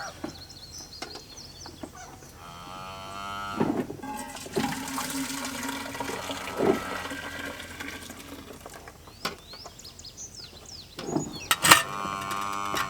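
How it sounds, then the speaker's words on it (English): Fresh cow's milk is poured from a big bucket into a covered pail in a farm barn, a sustained rushing splash through the middle, with a cow lowing and fowl calling around it. "Now I transfer Meg's milk into my covered pail."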